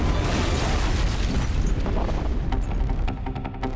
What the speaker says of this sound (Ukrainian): тропічну ідилію розриває серія вибухів